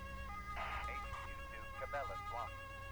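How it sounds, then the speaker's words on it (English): Police car siren in the Autobahn Police Simulator video game, wailing tones rising and falling over a low engine hum, moderately faint and steady. "Even though I turned my engine on, my siren's still going on."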